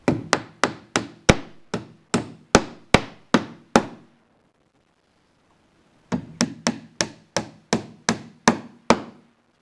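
Sharp hammer blows drive nails into wood while building a crate, a steady rhythm of about a dozen hits, then a pause of a couple of seconds before another run of evenly spaced blows.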